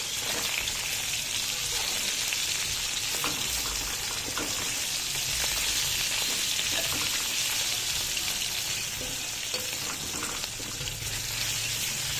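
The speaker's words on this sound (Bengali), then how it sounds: "মাছগুলো দেখো সুন্দর কিন্তু ভাজা হয়ে যাচ্ছে" Fish fries in a pan with a dense, even hiss that stays strong for the whole stretch, like steady rain, with faint crackles in it and no speech.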